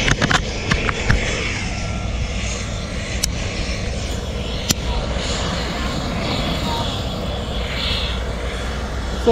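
An airplane flies over near Seletar airport, a steady broad engine roar that holds through the whole stretch, moderately loud, with faint voices and outdoor bustle underneath.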